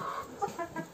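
Domestic turkeys on a farm cluck in short, throaty calls, several brief notes close by over a steady background of barnyard noise.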